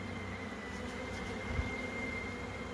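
Honeybees buzzing around a beekeeper while a swarm is being hived, a soft, continuous insect drone close by, faint and steady with no talking.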